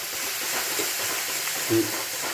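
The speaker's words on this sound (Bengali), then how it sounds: "মিক্স করে একটু ভাজা ভাজা করে দিলাম" Soft frying sizzle of salt, turmeric and cumin powder in a pan with faint stirring scrapes, steady and low, plus one brief clink near the end.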